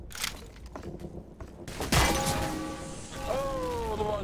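Gunfire from an MG machine gun in the video game Day of Defeat, with bursts and impacts sounding through a busy firefight around a church tower and window.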